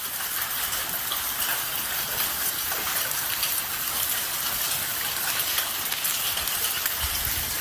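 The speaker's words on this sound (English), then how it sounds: "Yeah, it's raining rocks." Hail pouring down like falling rocks, a dense continuous hiss and patter of many small impacts at an even, steady level throughout, with no voices.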